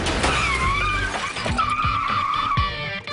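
A car rams both sides of another car at 25 mph: engine roar and high tire squeal run throughout, with a few sharp thuds of impact in the middle and toward the end.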